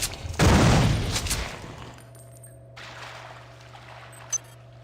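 An overcharged pistol in System Shock 2 fires one sharp, loud burst that decays over about a second, followed by a steady low mechanical hum and a faint click.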